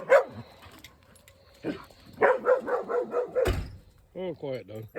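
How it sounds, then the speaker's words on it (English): A dog barks several times in a quick run, then whines and yips, close by at a rural Alaskan spot beside an old truck; a voice comes in at the end. "Oh, quiet, dog."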